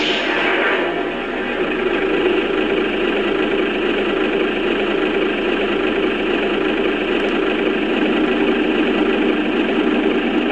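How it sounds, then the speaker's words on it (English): A Lionel U30C model diesel locomotive's simulated engine idle hums continuously with a constant low rumble and faint mechanical vibration, sounding close and unchanging throughout. "so now let's power this engine up and take it for a spin."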